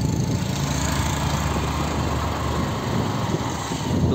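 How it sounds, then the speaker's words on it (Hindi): A motorbike engine drones steadily while riding, a constant close mechanical hum with road noise and no speech. "सौरभ मेरी बाइक लेके जा रहा है और मैं हूँ दोस्त के साथ"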